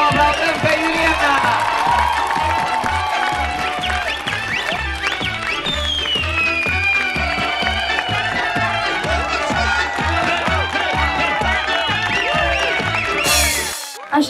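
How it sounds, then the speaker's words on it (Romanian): Audience at a rural beauty pageant applauding and cheering for a contestant, a loud, continuous crowd roar with clapping and shouts throughout, ending abruptly. "Să o aplaudăm pe Raluca!"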